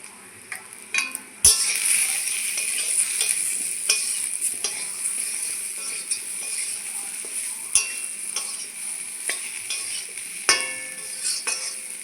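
Spices, including mustard powder, being stirred in a frying pan, giving a steady close scrape and rustle over a low sizzle, with a sharp clink near the start and a few more spoon knocks later.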